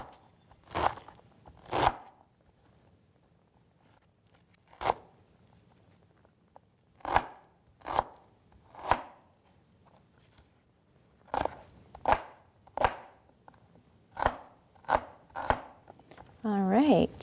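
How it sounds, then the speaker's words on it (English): Knife strokes chop through an onion on a board in a fireside kitchen, arriving as sharp, separate crunchy cuts in irregular clusters with short pauses between them, close and clear, with no one talking. "So I'm going to keep chopping my onion."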